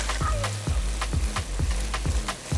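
Oysters fry in a pan with a constant sizzle, while chopsticks make a series of regular tapping and scraping stirs close by, without speech.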